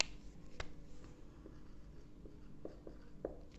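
Writing for a chemistry lesson on liquid-in-liquid solutions produces faint, sparse taps and short scratchy strokes spread over a few seconds against steady low background hum.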